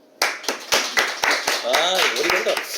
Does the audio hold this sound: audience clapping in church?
yes